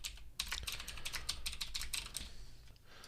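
Quick bursts of keystrokes on a computer keyboard while Python code is entered, close and fairly quiet, a flurry of taps in the middle with short pauses before and after.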